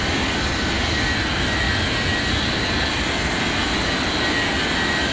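A Philippine Airlines airliner powers up for its takeoff roll on a runway. It gives a steady, loud, broadband engine roar with no other sound, holding constant for the whole stretch.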